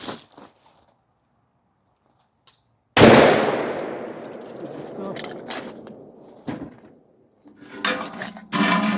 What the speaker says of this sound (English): Okay, so I'm taking just 1 shot with Tula 308,